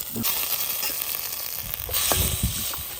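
Food sautéing in a frying pan gives a steady, close sizzling hiss for about three seconds, with a few soft stirring knocks and a brief louder swell near the end. No one speaks.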